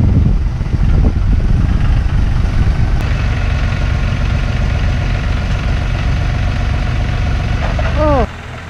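A heavy tractor engine rumbles steadily at idle, loud and close, with a brief squeal near the end before the noise drops.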